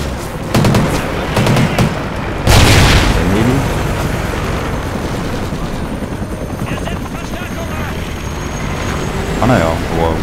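Helicopter rotor thumping through a Call of Duty Ghosts battle, loud and continuous amid bursts of gunfire and booming impacts, with occasional voices.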